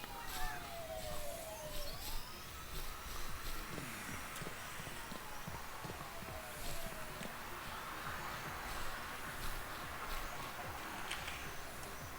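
A police car siren in the video game Thief Simulator wails with rising and falling tones over a busy, noisy game scene, fairly prominent and continuous alongside other gameplay sounds.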